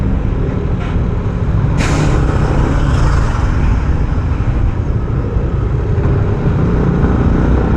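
Trucks and cars passing on Ross Boulevard on the road to Kaybiang Tunnel, a continuous loud engine rumble from nearby heavy traffic, with a sharp hiss of an air brake near the start.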